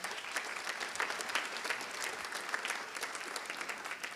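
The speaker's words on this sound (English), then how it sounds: "Can you give them a round of applause?" School concert audience at a middle school orchestra and chorus performance claps in a steady, moderately quiet round of applause, many hands heard together at some distance in a hall.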